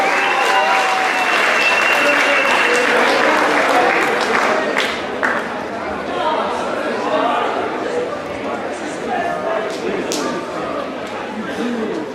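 Sustained audience applause at a high school awards ceremony fills the hall, loud and dense at first and easing slightly, with crowd murmur and a few voices mixed in.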